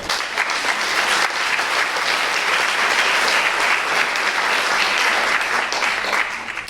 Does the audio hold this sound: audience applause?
yes